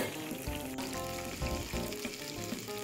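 Chicken pieces deep frying in oil on a medium flame make a dense, steady sizzle with bubbling crackle up close, continuous and without speech.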